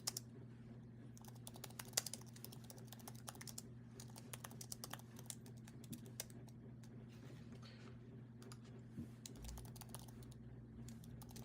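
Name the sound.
typing on a computer keyboard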